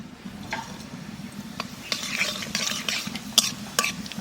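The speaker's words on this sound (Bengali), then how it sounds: "তেলের মধ্যে দিয়ে দেবো কটা জিরে" Cumin seeds sizzle in hot oil in a village kitchen, a soft frying hiss broken by scattered clinks and scrapes of stirring against the pan, fairly quiet and close.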